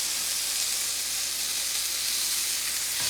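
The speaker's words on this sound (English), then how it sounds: "it's hot enough that when it hits the pan, it's definitely got some sizzle going" Steak sears in a hot pan on a stovetop, a dense continuous sizzle and hiss that stays steady and close the whole time, with no voices over it.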